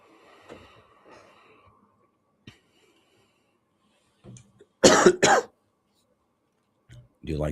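A man coughs and clears his throat in a loud burst of two or three harsh coughs midway, with softer throat noises and brief speech fragments around it in a quiet studio setting.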